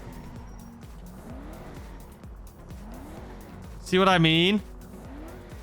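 A hard-accelerating SUV in GTA 5 Online revs up repeatedly, its engine pitch climbing and dropping with each gear change, while a voice briefly speaks over the steady engine drone.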